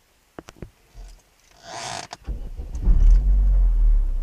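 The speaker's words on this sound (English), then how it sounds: "So now I'm gonna start the car now." A car engine cranks after a few clicks and a brief whir, then catches and settles into a loud, steady low idle rumble that holds to the end, with no talking.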